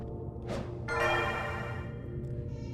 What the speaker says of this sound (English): Curtain time bell, the bell that denotes the start of a play.